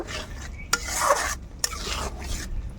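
A spoon scrapes and stirs water into a spice mixture in a pan, making rough rasping strokes with two sharp knocks against the metal, close and alone.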